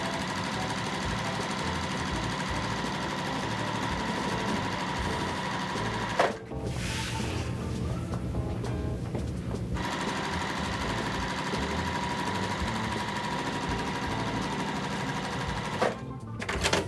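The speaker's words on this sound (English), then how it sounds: "So I'm going to sew my rows together here next." A sewing machine stitches quilt rows together, running steadily and loud with a brief pause partway through before resuming, then stopping again near the end.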